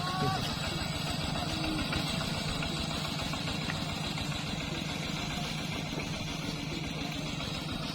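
A continuous low engine rumble idles steadily with a rhythmic knocking throb, close and loud throughout, with faint voices mixed in underneath.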